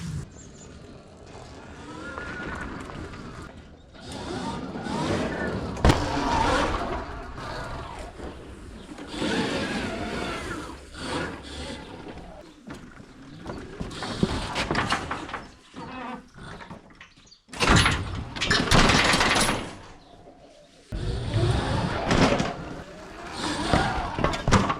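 A fat-tire electric dirt bike motor runs in reverse, a fairly quiet, uneven whirring hum that surges and drops over about twenty-five seconds, with no one talking.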